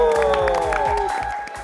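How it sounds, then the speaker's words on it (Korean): A small group of K-pop idol members claps and cheers together at a studio visit, a short burst of close applause mixed with excited voices that fades toward the end. "박수!"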